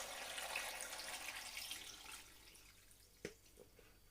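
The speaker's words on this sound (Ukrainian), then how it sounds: "Заливаю ще однією порцією розсолу, так як у мене більше відро" Brine poured over tomatoes packed in a large ten-litre plastic bucket for fermenting: a soft, steady liquid pour that trails off, followed by a single sharp knock and a couple of faint drips.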